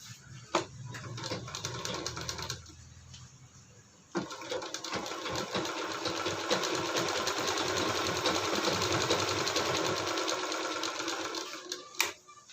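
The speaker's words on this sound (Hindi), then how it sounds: "तो ये हमने सिलाई लगा लिए हैं।" A sewing machine stitches folded waste fabric for a machine cover, running as a steady close mechanical whir and rattle for most of the stretch, with brief stops and starts near the beginning and a clunk at the end.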